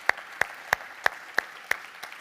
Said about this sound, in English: Can we just get a round of applause for,